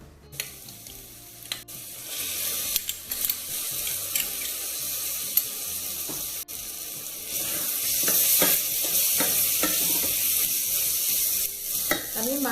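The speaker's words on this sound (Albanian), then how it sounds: "i hedh ujin e nxehtë" Hot water poured into simmering tomato sauce for a veal stew, a continuous close splashing pour over a frying sizzle that grows fuller and louder toward the end.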